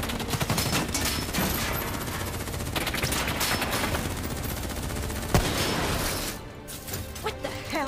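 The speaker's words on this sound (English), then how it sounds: "What the hell? Who's shooting?" Gunfire in Call of Duty: Black Ops 3 rattles as continuous dense bursts of automatic weapons, with a single heavier crack partway through. It stays loud throughout and eases slightly near the end.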